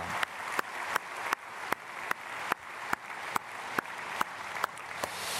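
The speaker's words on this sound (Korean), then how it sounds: "우리 박수로 축복하겠습니다." A church congregation claps together in a steady, rhythmic applause of evenly spaced, loud unison beats, no voices over it.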